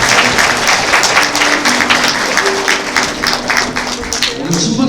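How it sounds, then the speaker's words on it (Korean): Wedding guests in a convention hall clapping for the bride and groom, steady applause with voices murmuring and calling out over it. "신랑 이재승 신부 박수정 박수 부탁드리니다"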